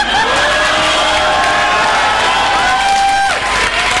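A university drama festival audience cheers, whoops and claps for a performer, a loud, continuous wash of crowd noise with shouted voices rising and falling throughout.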